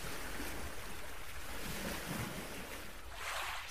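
Ocean waves surge and wash continuously with steady wind noise, a broad roaring wash with no talk.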